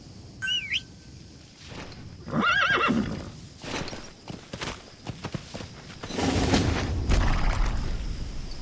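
A horse in the Metal Gear Solid V: The Phantom Pain game, in an Afghanistan wilderness setting, gives a loud whinny among scattered hoof clip-clops, with game sound effects in between.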